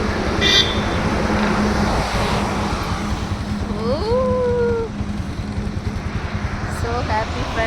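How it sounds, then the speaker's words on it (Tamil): Buses and lorries passing along a road, a continuous loud roar of traffic close by with a horn sounding midway, while someone talks over it. "பஸ்ஸும் லாரியும் போயிட்டே இருக்கு"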